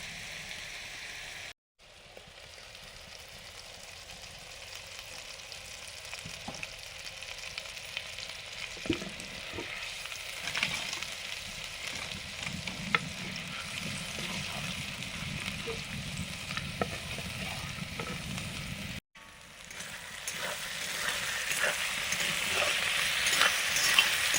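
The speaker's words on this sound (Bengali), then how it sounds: "তেলে দিলাম মাছগুলো মশলা থেকে তুলে নিচ্ছি এই মশলাটাও তেলে দিয়ে কষে নেবো" Fish and a garlic spice paste fry in hot oil with a continuous crackling sizzle and occasional stirring, heard close and fairly loud with two short breaks.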